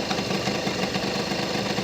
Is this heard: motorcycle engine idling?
yes